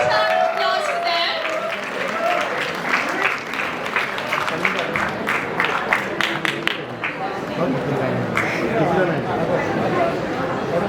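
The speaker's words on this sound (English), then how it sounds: "Can you have a huge round of applause for them?" An audience applauds the winners of the Startup Safari event at a startup competition, steady clapping running under a voice speaking over it and crowd chatter throughout.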